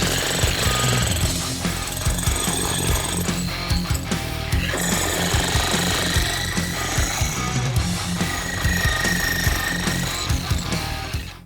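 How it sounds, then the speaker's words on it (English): An old electric jackhammer pounds concrete while running off a BLUETTI AC200P portable power station, a loud, close, continuous rapid hammering with rattling debris, sustained for the whole stretch. "this is my old tried and true jackhammer"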